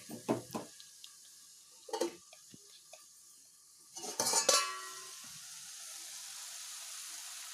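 A pan of curry with coriander on the stove, with a few sparse scrapes and clinks of a spoon stirring, quiet and intermittent with gaps of near silence and a faint sizzle in the background.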